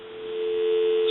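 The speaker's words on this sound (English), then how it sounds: "Some dial tone." Telephone dial tone from a repaired brass Majesty telephone, a steady continuous hum-like tone heard alone and slowly growing slightly louder.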